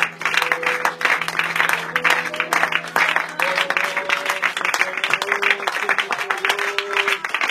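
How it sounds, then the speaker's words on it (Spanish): A church congregation clapping during a Spanish-language Sunday service, brisk overlapping claps with sustained musical tones and voices underneath, loud and close. "Dale un aplauso al Señor esta mañana."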